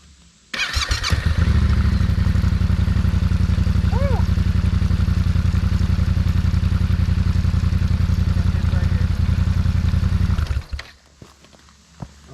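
A Yamaha Tenere 700 motorcycle, recently repaired with a spliced ground wire, fires up and idles loudly and steadily close by for about ten seconds before shutting off, with people talking around it.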